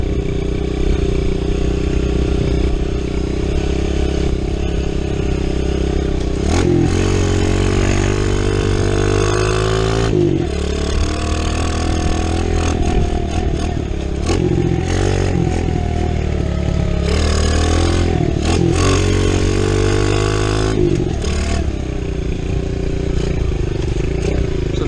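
A Kawasaki KLX 110 pit bike engine runs steadily outdoors while warming up, a continuous close buzzing drone with small shifts in revs and rough wind noise throughout.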